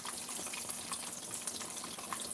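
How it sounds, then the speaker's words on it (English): A pork chop frying in grease gives a faint, steady crackling sizzle, with scattered pops over a soft hiss. "this pork chop will be ready when she stops talking to us. She gonna quiet down. You gotta listen to that grease."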